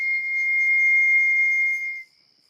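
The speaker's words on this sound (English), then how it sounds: "a shrieking whistle echoed through the hills" A shrieking steam engine whistle echoing through hills, one sustained shrill tone held for about two seconds before cutting off abruptly, loud and alone.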